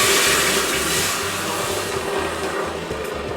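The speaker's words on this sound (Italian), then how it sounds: "Allora aggiungiamo quindi l'acqua fredda," Cold water poured into a very hot pot for risotto hisses and sizzles into a loud rush of steam that slowly fades, with a low rumbling hum underneath and no talking.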